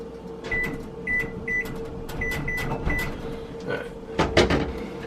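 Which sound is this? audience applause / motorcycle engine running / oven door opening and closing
oven door opening and closing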